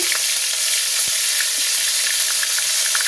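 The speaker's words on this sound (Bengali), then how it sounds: "সেই প্যানে আমি দিয়ে দেব একটু রসুন বাটা, একটু আদা বাটা" Garlic and ginger paste frying in a hot pan gives a loud, steady, close hiss and sizzle with faint crackles throughout, with no voices.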